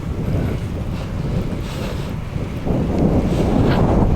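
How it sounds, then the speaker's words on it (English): Steady, heavy wind buffeting on a GoPro Hero 8 Black microphone fitted with a large dead cat windscreen while moving fast outdoors, a continuous low roar that grows louder toward the end, with no talking. "All right, so now it's pretty windy."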